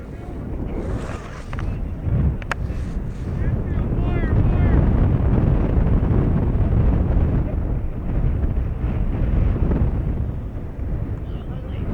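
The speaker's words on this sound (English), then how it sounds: "Steady breeze, but we have gusts that come and go." Steady, loud wind roars and buffets the microphone at a high school baseball game, swelling in the middle and easing toward the end, with voices talking underneath.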